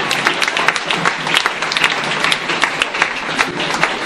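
Church congregation in Guadeloupe applauding and cheering for the Lord, loud continuous clapping from a crowd with voices mixed in throughout.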